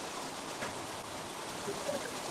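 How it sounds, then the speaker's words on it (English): A steady rain-like hiss that fills the background evenly throughout, soft and continuous like rainfall or a distant stream, with no voices over it. "it sounds like it's raining"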